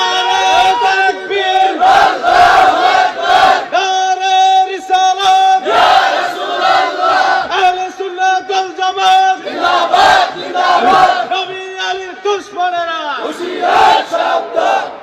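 A large crowd chants slogans in unison at an Islamic waz sermon gathering, loud rhythmic voiced phrases repeating with short pauses for about fifteen seconds.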